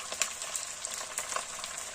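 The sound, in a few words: chicken feet frying in oil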